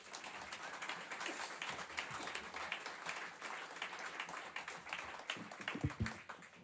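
An audience at a jazz concert in the music school in Erftstadt applauds steadily and warmly, a dense wash of clapping from many hands that holds throughout, with a few louder claps near the end.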